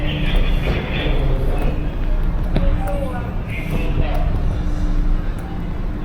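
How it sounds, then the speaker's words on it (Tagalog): An airport sky train rumbles in at Hamad International Airport with a steady low drone and faint high squeals and clicks, while people talk nearby over the noise. "The train is arriving."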